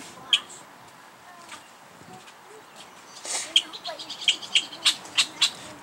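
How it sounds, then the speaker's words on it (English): A bird calls out while attacking near its nest by the water during fishing, a run of short sharp chirps, sparse at first and then repeating quickly and fairly close, with a faint voice briefly present. "Oh, there's like a bird attacking."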